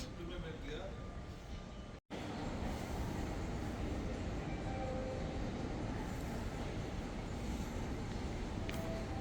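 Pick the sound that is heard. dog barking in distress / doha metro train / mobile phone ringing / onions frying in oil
doha metro train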